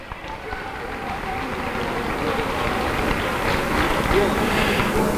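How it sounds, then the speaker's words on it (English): A gym crowd at a school pep rally applauds a team ranked second in the nation, a steady wash of clapping that builds slightly and holds, heard from amid the audience. "Give them a round of applause."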